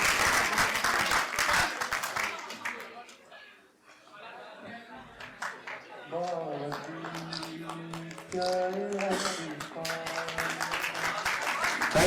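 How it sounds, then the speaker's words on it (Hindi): Audience applause at a mushaira poetry event and book release at a college hall fills the opening seconds, fading out before someone speaks over the quieter room. "आपकी तालियां बताती हैं कि आसिफ साहब की फैन फॉलोइंग बहुत जबरदस्त है।"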